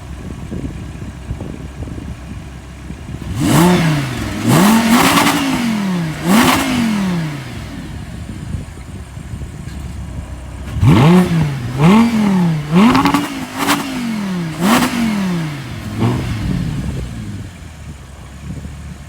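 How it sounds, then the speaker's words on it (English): A 2014 Audi R8 Spyder's engine revs hard several times in quick bursts, pauses, then revs again in a second series of throttle blips, loud and close. "now I'll give you an exhaust test"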